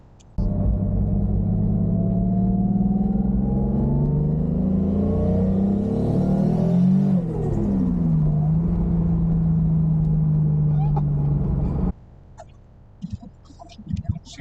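Toyota Supra on a warmed-up drive, its engine climbing loud and close through rising revs, easing back to a steady cruise drone, then cutting off abruptly near the end into quiet clicks and small handling noises.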